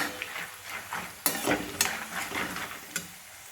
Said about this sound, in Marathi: खोबरे त्याला पण थोडस लालसर होऊ द्यायचं आहे